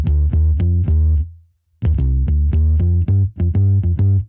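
Scarbee Rickenbacker sampled bass run through a maximizer, FabFilter EQ and compressor, playing a punchy riff of short plucked notes with a brief gap midway, loud and upfront with no voices.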